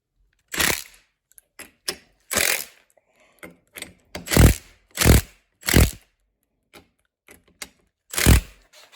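Bolts being drawn up evenly to seat a ring on a Ford Crown Victoria rear axle housing, heard as sharp, close mechanical clicks and short ratcheting bursts, spaced irregularly with quiet gaps between them.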